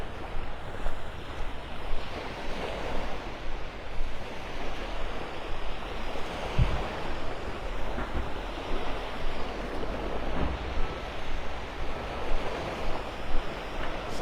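Small ocean waves break steadily on the beach at Delnor-Wiggins in North Naples, a continuous loud wash of surf mixed with wind buffeting the microphone, with no talk.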